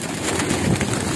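Pigeons cooing close by in a net enclosure, soft throaty calls blending into a dense, noisy background.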